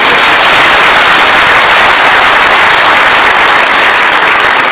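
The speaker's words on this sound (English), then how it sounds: "Can we clap for the President?" Loud, dense applause from a large crowd at a memorial send-off for President Moi in Kenya, steady and close throughout with no pauses.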